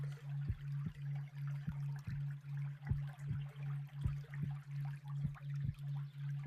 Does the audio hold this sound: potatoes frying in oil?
no